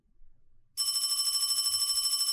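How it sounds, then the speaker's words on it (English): A telephone rings in the horror video game Paranormal HK, starting abruptly after near silence as a loud, continuous electronic trill with a rapid warbling pulse. "She probably can hear the ringing as well"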